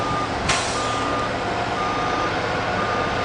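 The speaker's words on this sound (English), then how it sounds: "Here comes another truck" A truck hauling sediment backs up with a steady, evenly spaced reversing beep, a sharp air-brake hiss near the start, and its engine rumbling underneath throughout.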